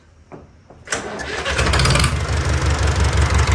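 A Sonalika tractor engine with a leaking head gasket: after a couple of faint clicks it cranks and catches, then settles into a loud, steady, close running rumble that continues to the end with no talking.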